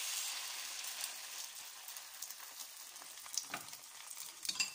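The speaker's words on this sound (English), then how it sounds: "Make sure that the oil is all over the pan, and this way I'll put my first slice of bread" A slice of bread frying in oil in a pan gives a soft, steady sizzle with faint crackles, quiet and close, no voices.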